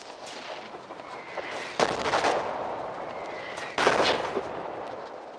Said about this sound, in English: that's a mortar